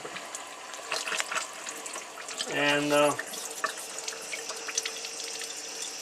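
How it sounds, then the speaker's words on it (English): Water runs from a tap of a Kangen water machine, a steady stream under a voice, with a short, louder gush near the middle. "Gonna open up the water"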